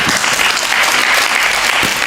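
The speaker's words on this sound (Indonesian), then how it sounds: "Tepuk tangan buat Ahilman." Audience at Ustadz Hilman Fauzi's Islamic lecture breaks into steady, dense clapping that stays loud and even for about two seconds, with no talking over it.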